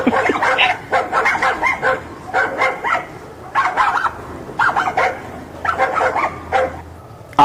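A dog barks repeatedly in uneven bursts, loud and close but thin and slightly distorted as if carried over a phone line, with brief pauses between clusters of barks.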